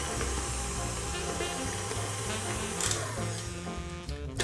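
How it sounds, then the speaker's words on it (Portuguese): An electric stand mixer whirs at medium speed through chocolate cake batter, a steady buzzing motor hum with faint rattling from the bowl. "aumenta a velocidade para média de novo e bate mais 30 segundos"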